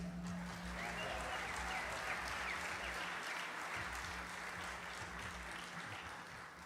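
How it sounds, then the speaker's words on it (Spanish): Steady, dense applause from an audience at the World Harp Festival in Asunción, Paraguay, a continuous wash of clapping that holds at an even level for the whole stretch with no voices on top. "aplauso para mi hijo Dani Basaldúa"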